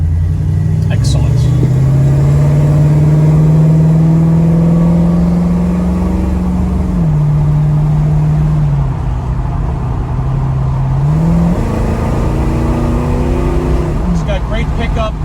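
1968 Ford Mustang Copperhead Eleanor kit car with a freshly adjusted carburetor, its engine droning loud and steady from inside as it pulls and shifts through gears, pitch rising and dropping, while someone talks over it.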